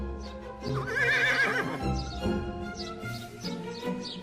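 A horse kept at a large haveli whinnies in a long, loud, wavering neigh that rises and falls, with further softer whinnying and a steady low background hum following, no voices.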